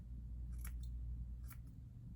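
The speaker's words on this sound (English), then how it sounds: "if you just have regular scissors also, is called point cutting" Regular scissors point-cutting hair at a 45-degree angle, two quick crisp snips close to the ear over a low steady background hum, with no talking.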